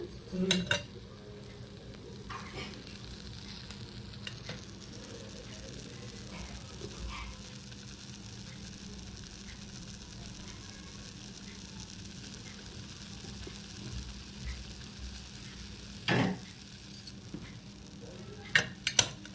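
Spices tempering in hot oil in a pan for a thelagapindi (sesame cake) curry make a faint continuous sizzle, with occasional clinks of a utensil stirring against the pan.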